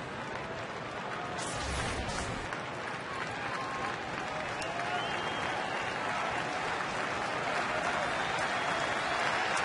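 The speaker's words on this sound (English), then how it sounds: "Crowd trying to help him out." A baseball stadium crowd in Milwaukee cheers steadily with the bases loaded and two out, a broad continuous roar that holds and swells slightly, with no talk over it.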